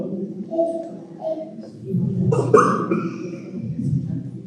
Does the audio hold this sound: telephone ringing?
no